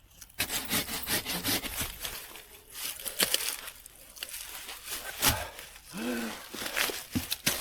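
A handsaw cuts through a garden tree branch in irregular rasping strokes, close and fairly quiet, with scraping and crackling of wood throughout.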